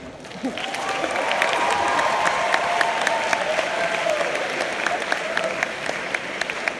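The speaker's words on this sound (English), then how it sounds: "Delegates, hold your applause." Sustained applause from a large conference audience at a THIMUN 2020 ceremony, dense steady clapping that swells quickly and holds loud throughout, with no voices on top.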